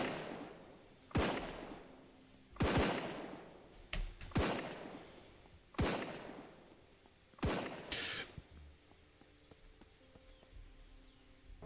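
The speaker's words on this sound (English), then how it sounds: "Like the sound of the gunfire is actually pretty loud." Loud single video game gunshots from SurrounDead crack out one after another at irregular intervals, each with a booming echo that trails off, followed by quieter rustling.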